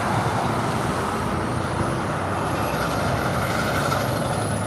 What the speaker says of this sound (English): I apologize for the noise of the traffic.